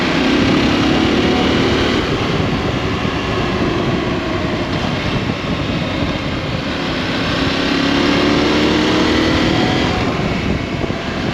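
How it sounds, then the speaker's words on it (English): A 2021 KTM 890 Adventure R motorcycle engine pulls steadily through the gears at modest revs, a loud continuous drone with rising and falling pitch, heard alone without talk. "Just going through the gears. I'm not revving anything out here."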